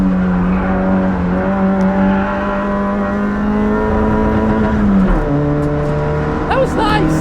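A Nissan Micra K11 race car on the Nürburgring, its engine droning loud and close at high revs with a pitch drop from an upshift midway, while someone shouts excitedly over it.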